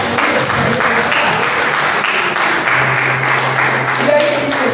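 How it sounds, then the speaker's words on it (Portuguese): A church congregation applauding during a worship service, a dense continuous wash of many hands clapping that fills the whole stretch, fairly loud and close. "Pode aplaudir ao Senhor."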